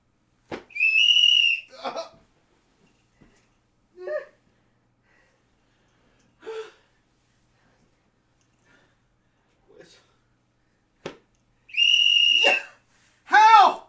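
Short sharp whistle blasts near the start and end, with scattered quiet gasps and breathy sounds in between.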